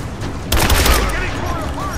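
A burst of rapid gunfire and booming explosions erupts in the Rise of the Tomb Raider video game, loud and sustained, with shouting voices mixed into the combat noise.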